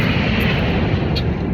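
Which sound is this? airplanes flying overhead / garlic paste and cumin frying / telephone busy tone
airplanes flying overhead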